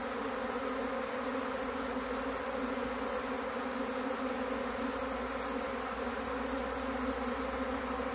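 A swarm of honey bees flies around a hive, giving a continuous, even drone of buzzing wings at steady low volume with no other sounds.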